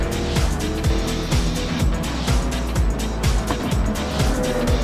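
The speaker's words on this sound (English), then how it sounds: "I'm not sure if I was hearing Rin's Corvette or Noir's Camaro just there, but something was quite loud." A loud Corvette race car in a racing video game roars past among other cars, its engine note sweeping and falling repeatedly with tire squeal. The engine sound is close and dominant, with no talking.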